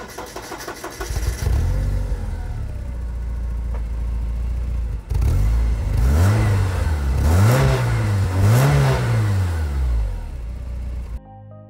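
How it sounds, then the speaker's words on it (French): A Porsche 944 engine cranks and catches, settles into a steady idle, then is revved in several rising and falling pulls close by, clear and loud with no talking. "je vous invite à l'arrière et je vous la démarre"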